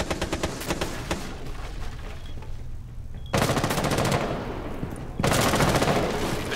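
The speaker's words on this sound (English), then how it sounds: "They're shooting in this window" Rapid automatic gunfire in Rainbow Six Siege on the Skyscraper map, dense bursts that fade briefly then return louder and closer, continuous across the whole stretch.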